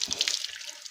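Tap water runs and splashes into a basin during wudu ablution, uneven close trickling and patters that are strongest at the start and then settle into a lighter flow, with no talk.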